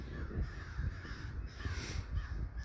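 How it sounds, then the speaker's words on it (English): Red-winged blackbirds give repeated loud, harsh caws in a garden, several calls overlapping at close range against steady background noise. "I'm not sure what they're called, red-winged blackbirds."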